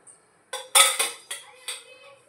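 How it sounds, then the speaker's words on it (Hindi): A metal pressure cooker clanks down onto a stove, followed by a few ringing clinks and knocks of cookware, close and sharp. "यहाँ मैंने कुकर चढ़ा दिया और इसमें डाल देते हैं तेल"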